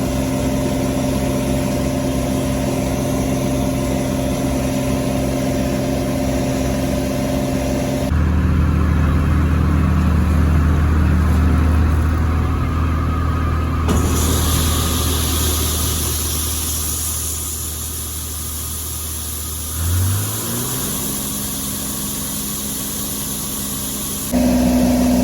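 A combine harvester working a corn field drones steadily with a low engine rumble that shifts in tone and level as the machine draws closer, with no voices.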